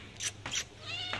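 A domestic cat meows three times in quick succession, close and clear, while being called over to its food, with a faint low hum underneath.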